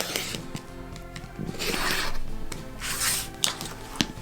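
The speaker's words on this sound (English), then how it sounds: "So I'll get that in place and then go ahead and trim." Fabric for a scrappy hourglass quilt block being trimmed gives close, dry rubbing and scraping strokes with a few sharp clicks and ticks, quiet and without speech.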